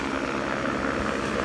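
Police helicopter flying during an anti-drug-trafficking operation, its loud, steady rotor and engine roar filling the scene without pause.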